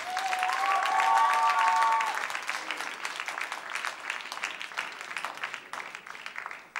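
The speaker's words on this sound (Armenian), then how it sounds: "Ծափարում ենք, ծափարում ենք" Audience at a dance competition gala concert applauds in a steady, full wash of clapping, a short musical tone ringing at the start before the clapping slowly fades.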